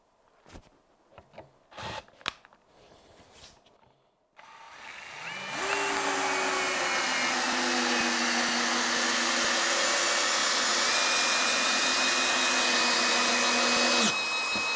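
A Bosch cordless impact drill driving a screw, a few handling knocks, then a loud sustained whirring drive for about nine seconds that stops abruptly, close by.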